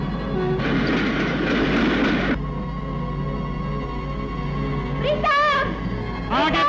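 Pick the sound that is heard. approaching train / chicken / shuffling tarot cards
approaching train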